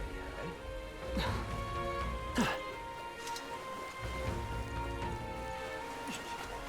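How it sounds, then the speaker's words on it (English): Heavy rain falls in the video game Metaphor ReFantazio. It is a soft, steady patter under sustained musical tones, with a couple of sharp thuds, and the whole scene is quiet. "Damn it, it's raining hard as hell too."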